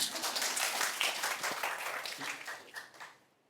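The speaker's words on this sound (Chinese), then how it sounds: "我们给老鼠鼓掌一下。" An audience claps together at a lecture, a dense burst of applause that starts loud and gradually fades out over a few seconds.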